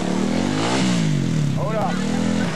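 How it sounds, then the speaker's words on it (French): A rally motorcycle engine at the 1999 Raid du Malgré Tout gets a big throttle blast, revving up and falling back in a rough, loud drone while someone speaks over it. "En mettant un grand coup de gaz."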